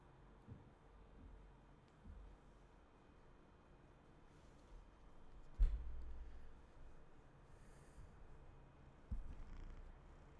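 A cat purrs softly and continuously at close range, with a couple of brief bumps and rustles along the way.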